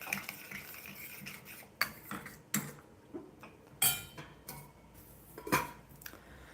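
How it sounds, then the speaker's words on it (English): Tomatoes stirred in a cooking pan, a run of close clinks and scrapes from a utensil against the pan, irregular and sharp with quiet gaps between, no voices. "I'm going to stir my tomatoes."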